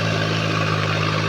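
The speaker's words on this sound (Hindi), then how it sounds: "अपने एरिया का ये पहला ट्रैक्टर है, मिनी ट्रैक्टर, जो कीचड़ में चल रहा है।" A mini tractor engine runs steadily in a muddy paddy field, a continuous loud low drone with a strong steady hum and no talk.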